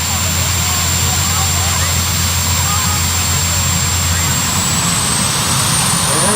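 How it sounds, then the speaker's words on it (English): Turbine engine on a pulling tractor at a county fair tractor pull spins up, a loud, steady roaring whine that fills the whole clip with a high rising tone, close and continuous. "Now that turbine is spinning just a little bit faster here. You'll start hearing the RPM start to work their way up."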